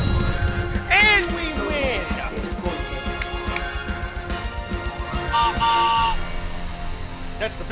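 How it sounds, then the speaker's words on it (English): A victory whistle from the video game Apex Legends rises among game effects, footsteps and impacts, with a player talking loudly over the action. "That's the victory whistle right there"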